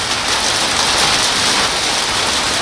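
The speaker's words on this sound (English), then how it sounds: "It's raining, coming down nice big drops." Heavy rain pours down steadily in big drops, a dense hiss of large drops pattering on a surface throughout, close and loud, with no voices.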